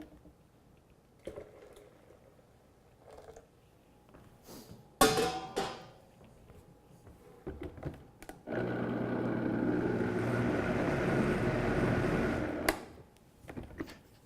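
Warm water poured in a steady stream for several seconds to top up a quart of a kitchen remedy, a fairly loud continuous splashing rush that follows a few quiet clinks and handling noises.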